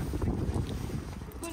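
Strong gusting wind buffets the microphone outdoors in a parking lot on a cold day, a steady low roar that dominates the clip with faint voice fragments underneath.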